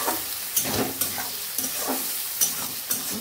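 Spice paste frying in oil in a pan, a steady sizzle broken by repeated stirring scrapes and soft clanks, close up with no voices.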